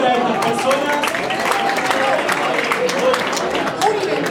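Audience applause at a conference plenary session, a steady wash of clapping from a crowd, with voices mixed in.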